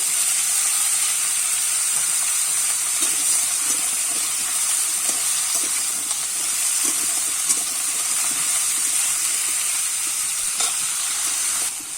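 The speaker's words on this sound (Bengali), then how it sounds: "চিড়ে রাখা কাঁচা লঙ্কাগুলো আমি দিয়ে দেবো" Slit green chillies hit hot oil in a frying pan for a Bengali bottle gourd and rohu fish curry, giving a steady, close, continuous sizzle and hiss with faint stirring scrapes and no talking.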